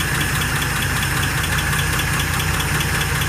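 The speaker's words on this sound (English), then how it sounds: "that's what Pontiac Flathead 6 sounds like" A 1948 Pontiac Torpedo's flathead six engine at a steady idle, loud and close, with a continuous low rumble and a faint rhythmic ticking running through it.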